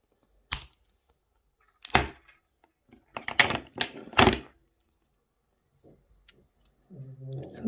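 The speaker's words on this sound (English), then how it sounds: "So we're going to cut this wire up here." Wire for a wire wrap pendant is cut, giving a handful of sharp, close snips and clicks spaced apart in otherwise quiet surroundings, with faint soft handling noises at the end.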